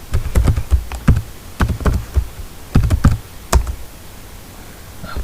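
A VTY password being typed on a computer keyboard: close, crisp keystrokes in quick irregular bursts for about three seconds, then a short quiet pause.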